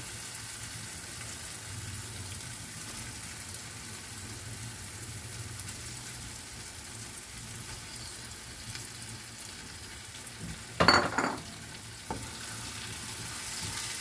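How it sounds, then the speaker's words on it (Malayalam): Half a kilo of prawns cooking in a pan make a steady, close frying sizzle, with a sudden loud clatter and scrape near the end as they are stirred; no voices. "ഞാനിവിടെ ഒരു അര കിലോ കൊഞ്ചാണ് എടുത്തിരിക്കുന്നത് അത് ഇതിലേക്ക് ഇടാം"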